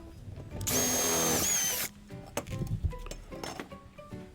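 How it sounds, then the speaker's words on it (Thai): A power drill bores a hole in an old bicycle wheel, one loud high whining burst lasting about a second, followed by quieter clinks and handling noises. "แล้วก็ผมก็จะมาเจาะรูทั้งหมดจำนวน 8 รูเช่นกัน"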